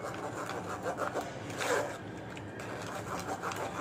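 Ground raw mango pulp is pressed and rubbed through a kitchen sieve, giving soft, close scraping and rubbing strokes that come in irregular short passes.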